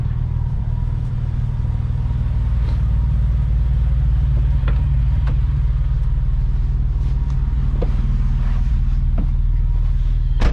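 Modified 2000 Porsche 996 with a six-speed manual, Schrick cams and aftermarket exhaust, its engine rumbling steadily and loudly while driving, a constant deep drone throughout with a few faint clicks on top and no talk.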